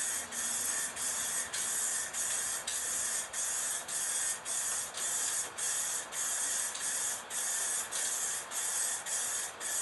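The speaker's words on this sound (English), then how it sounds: "you kind of want to lift your can up a little and tilt the bottom back so you get constant spray coming out" Spray paint can hissing steadily onto a 2001 Dodge Ram 2500 truck fender, a loud continuous spray broken into regular short bursts with brief pauses, close and alone.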